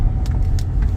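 A Ford F450 pickup truck drives at night, its steady low engine rumble and road noise continuous and close, with a few faint higher clicks over the drone.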